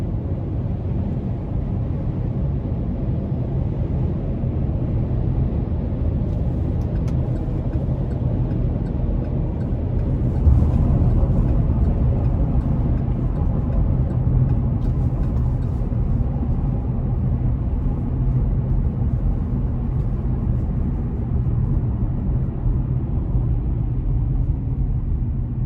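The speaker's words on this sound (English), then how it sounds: "the tires are not as intrusive as I would have expected in terms of road noise" Steady low road and tire rumble inside a 2021 Chevrolet Colorado ZR2 Bison pickup on the move, a continuous moderate drone with no talk.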